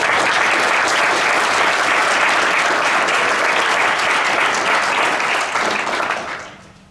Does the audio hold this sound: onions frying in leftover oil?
no